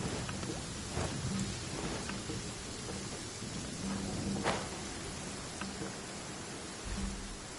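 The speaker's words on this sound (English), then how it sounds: "This rain ain't clearing anytime soon" Steady rain with rumbling thunder in the Genshin Impact video game, a dense continuous hiss of rainfall under low rolling thunder and occasional brief distant cracks, with no voices.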